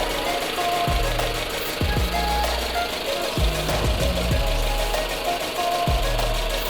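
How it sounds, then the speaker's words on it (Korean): A 2.4-litre Jeep Cherokee KL Longitude AWD runs steadily with the engine bay open, giving a constant even hum, with a few soft low thumps and clicks standing out at intervals. "엔진 소리 일정하네요"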